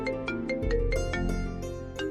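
A phone rings with a melodic electronic ringtone, its bright notes repeating in a steady pattern, loud and clear over a low background hum, with nobody talking.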